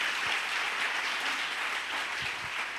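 Congregation in a church applauding and acclaiming the Lord, a steady wash of clapping that fills the whole stretch at moderate level with no break.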